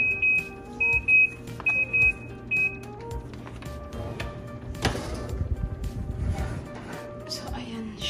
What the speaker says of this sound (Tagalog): after 45 minutes, nag-beep na yung ating oven.